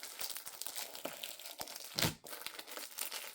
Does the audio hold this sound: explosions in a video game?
no